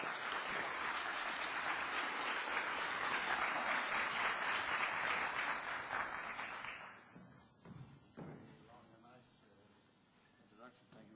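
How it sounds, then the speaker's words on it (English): A conference audience gives a warm round of applause welcoming Dr. Lohani to the stage, dense clapping sustained for about seven seconds before fading into scattered claps and a few voices. "a warm round of applause"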